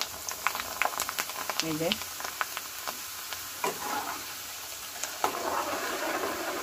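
Homemade potato papad frying in very hot oil crackles and bubbles in bursts, with scattered sharp pops and utensil clinks and a voice talking briefly.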